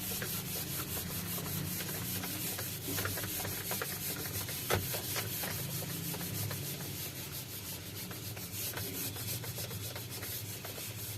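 A duster rubs writing off a board during an array programming lesson, giving a steady scratchy rubbing texture that runs continuously for about eleven seconds with no talk over it.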